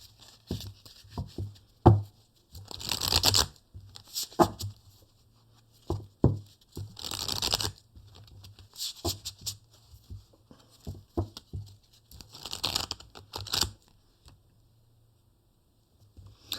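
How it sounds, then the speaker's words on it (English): Aboriginal Oracle cards being shuffled by hand, with bursts of soft papery riffling and patter separated by light taps and short pauses, close and fairly quiet, with no one speaking. "let's pull from the Aboriginal Oracle cards"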